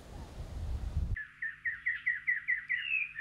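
Endemic island birds sing a clear, regular series of about ten bright chirping notes, close and loud, after a second of low rumbling background noise; no talk.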